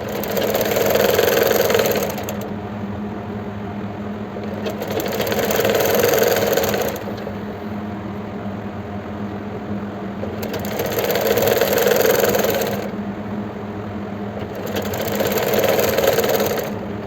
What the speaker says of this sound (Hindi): देखिए यहाँ से हम सेकंड सिलाई लगाना स्टार्ट करेंगे।